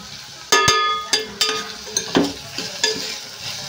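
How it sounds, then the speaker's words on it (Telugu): Onions sizzle in a pan for ridge gourd curry, with several sharp clanks and scrapes of a spoon stirring against the metal over a steady frying hiss. "ఉల్లిపాయలు అయితే ఫ్రై అయిపోతున్నాయండి."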